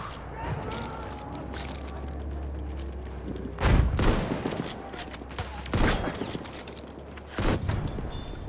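Gunfire from a Japanese weapon in the World War I shooter Battlefield 1, with three heavy blasts spaced a couple of seconds apart over a steady low battlefield rumble and scattered distant shots.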